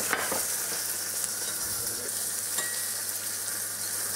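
Beets with a splash of vinegar frying in a pan on a stovetop give a steady, close sizzle with faint crackles and a low hum beneath, no voices.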